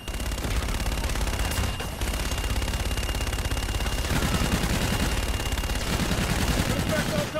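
A strike in Call of Duty: Infinite Warfare unleashes dense, unbroken gunfire, a loud rattling barrage that runs for the whole stretch, with radio voices faintly mixed beneath it.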